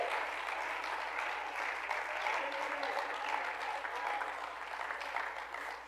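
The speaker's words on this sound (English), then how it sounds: "somebody clap your hands to the Lord" A church congregation applauds in steady, dense clapping that lasts throughout at an even level. The clapping rises briefly in the middle and tapers off slightly at the end.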